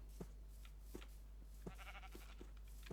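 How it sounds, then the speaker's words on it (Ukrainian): Sheep in the Minecraft video game give a soft, close bleat, surrounded by quiet clicking and footstep-like taps over a faint low hum. "Ладно, не буду вбивати вівцю."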